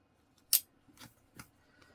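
Scissors snip through lightweight clear vinyl while a fabric notepad cover is made, one sharp close cut followed by two softer snips, faint and isolated in a quiet room.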